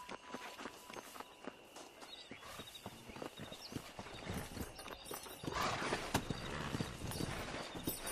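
Galloping horse hooves clopping in steady rhythm in Red Dead Redemption multiplayer, moderately close and building louder toward the end, with no talking over them.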